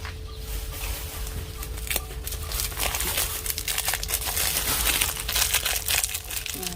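Steady crinkling of a plastic bag, close by, with a low hum underneath and brief crackles throughout.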